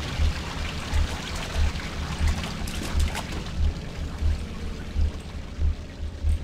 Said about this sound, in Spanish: Hay agua ahora.